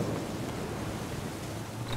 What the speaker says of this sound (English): still it's storming and raining.